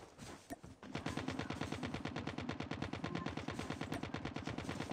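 Sustained automatic gunfire in a video game, a fast steady stream of loud shots continuing for several seconds after a couple of isolated pops.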